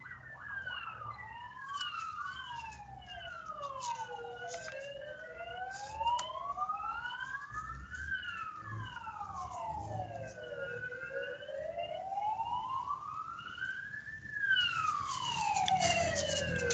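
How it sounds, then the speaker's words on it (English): Emergency sirens wail outdoors, several overlapping tones sweeping up and down continuously at moderate loudness, growing slightly louder toward the end. "The sirens going off."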